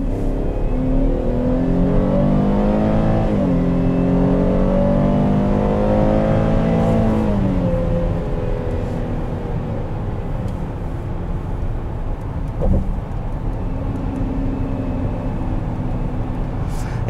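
A 2021 Chevrolet Traverse AWD Premier Redline Edition with a 3.6 V6 accelerates hard. The engine note climbs steadily in pitch through a gear change and then settles into a steady cruise drone, heard from inside the cabin.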